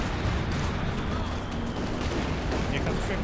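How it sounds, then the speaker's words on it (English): Gunfire and explosions crackle through a Company of Heroes 2 battle in which a Panzer IV is hit, a dense, continuous barrage with steady loudness. "Takes a gun shot there on the Panzer IV."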